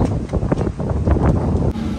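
Strong outdoor wind buffets the microphone in a continuous roaring rumble with uneven gusts throughout.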